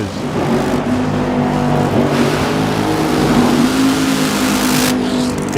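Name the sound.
funny car drag racing engine revving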